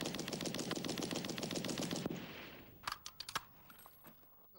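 A loud, sustained burst of rapid fire from a Vickers machine gun lasting about two seconds, then a few scattered metallic clicks and clatters.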